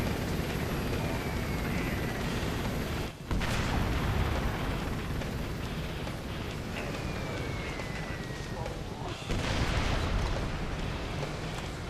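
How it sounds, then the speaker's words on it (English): Mortar bombardment in the video game Operation Flashpoint: Red River, a constant loud roar of rumbling blasts and booming impacts with whistling shells overhead, briefly cutting out twice. "you start this game under mortar bombardment, presumably by insurgents of some kind"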